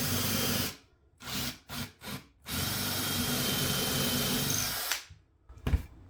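A power drill bores an inch-deep hole into the wooden leg of an antique chair, first in several short close bursts, then in one long steady run before it stops. No one speaks.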